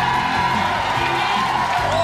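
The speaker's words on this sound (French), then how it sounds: "je vous demande d'applaudir M." Live audience at a French-language New Year's variety show applauding and whooping as a performer is introduced; dense, steady crowd noise throughout, fairly loud and continuous.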